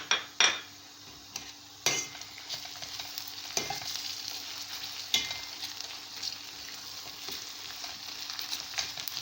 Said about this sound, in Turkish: Soğanımız kavruluyor. Biraz daha kavrulması lazım.